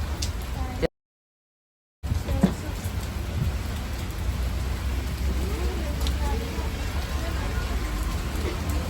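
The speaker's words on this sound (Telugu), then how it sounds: "వర్షం పడ్డది సో ఫుల్" Steady, dense rain hisses continuously close by at a forest cottage in Nallamala Forest, with a brief break near the start; a few faint voices are barely audible beneath the downpour.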